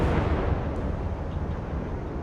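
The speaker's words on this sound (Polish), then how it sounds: "Kolejny wybuchnął." A heavy, rumbling explosion of a ship in the submarine game Silent Hunter 4 fills the space, a dense low boom that decays into a sustained roar with no voices.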